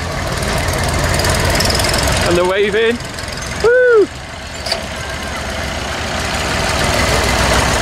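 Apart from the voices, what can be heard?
Massey tractor engines driving off in tractor run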